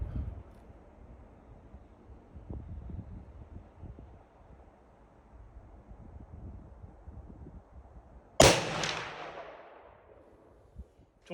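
A single loud .338-06 rifle shot cracks at an outdoor range after quiet wind and rustling, followed by a long, fading echo.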